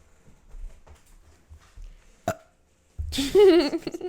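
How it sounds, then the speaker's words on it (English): A loud, drawn-out burp close to the microphone, rising into a croaky, wavering tone after a short sharp click and quiet rustling. "Burped into the mic."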